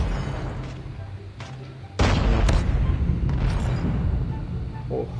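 Gunfire in a tournament shooter video game: a sudden loud burst of shots about midway, followed by sustained rumbling fire and blasts, with quieter background game noise before it.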